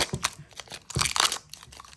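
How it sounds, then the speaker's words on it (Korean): Plastic wrapping on a liquid liposomal vitamin C package is torn open, giving a few close, sharp crinkling and tearing bursts with short gaps between them. "비닐을 뜯으면"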